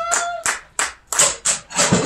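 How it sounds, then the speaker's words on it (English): Applause from a small audience, a few hands clapping in separate uneven bursts, fairly close and alone with no talk over it. "Oh, we get an applause"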